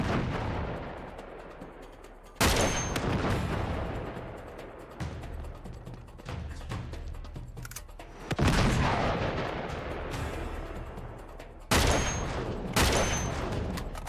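Heavy gunfire in the Uncharted 3 video game: repeated loud broadband blasts at about 2.5, 8.5 and 12 seconds, each followed by a dense rattle of shots and bullet impacts, with no talking.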